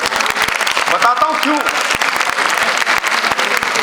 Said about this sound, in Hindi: कभी भी ताली बजाने में शर्म मत करें।